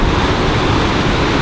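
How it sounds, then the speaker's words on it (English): Large ocean waves roll and crash at a beach in Canggu, Bali, a steady loud broadband surf roar with no breaks for the full length, close by and rumbling, with no voices over it. "The waves are actually huge today."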